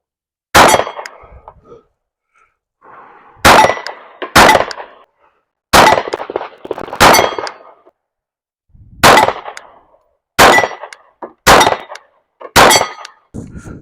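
Several sharp, loud gunshots from a small Glock 26 pistol at a shooting range, fired singly and in quick pairs with short gaps between strings.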